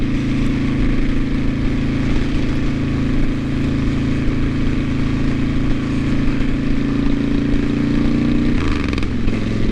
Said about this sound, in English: Oh yeah, the exhaust sounds good.